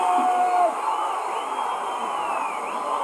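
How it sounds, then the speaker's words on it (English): A cricket crowd at a Nepal versus Kuwait match roars after a boundary, a loud, sustained wall of cheering and whooping that holds steady for several seconds. "you can hear the crowd roar"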